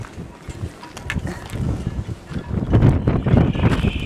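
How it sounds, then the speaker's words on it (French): Wind gusts by a harbour full of boats, rumbling buffeting on the microphone that swells and grows stronger toward the end, with faint clattering underneath. "Écoutez, le bruit que vous entendez, c'est le vent."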